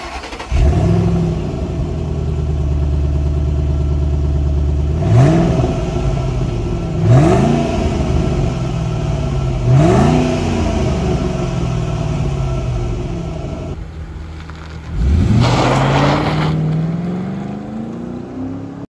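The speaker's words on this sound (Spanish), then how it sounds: "ahorita les vamos a poner una muestra de dándole un acelerón para que vean cómo se escucha este, ahorita el carro" Ford Mustang GT V8 on its stock exhaust, revved hard several times in a row from idle, each blip rising and falling back to a steady rumble, close and loud with no talking.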